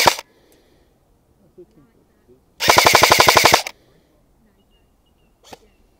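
An AATV Arcturus AK-12 airsoft replica fires 0.3 gram BBs at long range outdoors: one rapid burst of about a dozen snappy shots, with isolated single cracks before and after amid quiet.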